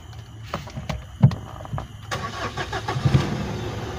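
Mitsubishi Triton common rail diesel engine cranking and catching, heard as a short burst of starter whir and rising engine noise amid clicks and clatter, fairly quiet and with no talk.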